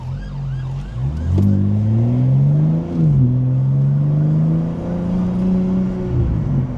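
A police car siren wails with rising and falling tones from close by, heard from inside a car, likely a G82 BMW M4, loud and continuous over the engine for several seconds.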